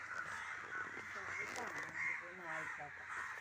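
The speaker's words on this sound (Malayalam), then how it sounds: "കാക്കപ്പട എന്ത് രസമാണല്ലേ കാണാൻ" A flock of crows caws repeatedly, harsh calls overlapping at a moderate distance in a quiet outdoor setting, with people's voices talking alongside.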